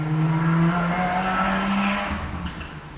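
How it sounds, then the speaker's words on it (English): Street traffic at a busy intersection rumbles past, with a car engine passing loudly up close and then fading over a few seconds; no one speaks. "you'll hear some traffic."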